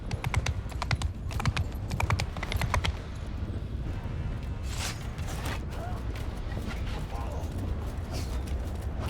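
Horse hooves clip-clop in the game Mount & Blade II Bannerlord, a run of sharp, evenly spaced taps over a busy low rumble of battle ambience, with a further scatter of hoof strikes later on.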